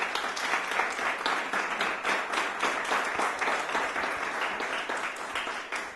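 Audience applause after a university workshop talk on project and program formulation, a dense, even roar of many clapping hands that holds steady for six seconds with no voices on top.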